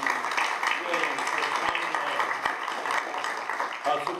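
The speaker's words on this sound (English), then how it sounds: "I'd like a round of applause for Assemblyman Williams." Audience at a legislative summit giving a round of applause for an assemblyman, steady moderate clapping with a voice speaking over it.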